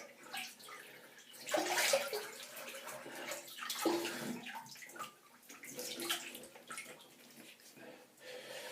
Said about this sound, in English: I just have a rinse